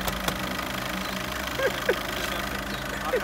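A Polo car engine with a fault idles steadily with a low rumble under an open hood, a few faint clicks and squeaks over it.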